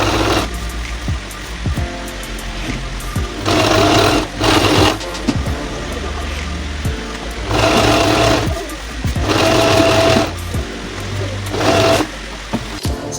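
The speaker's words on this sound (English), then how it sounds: "go straight to the machine to sew them and put them in place" A sewing machine stitches the strap of a slip dress in loud, steady runs of whirring, broken by short pauses, with no talking.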